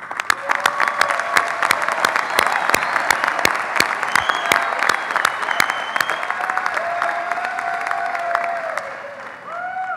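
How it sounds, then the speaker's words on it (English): An audience at a university engineering graduation ceremony applauds loudly, a dense sustained clapping from many hands with light cheering mixed in. "I would like everybody to join in giving you a big round of applause once more"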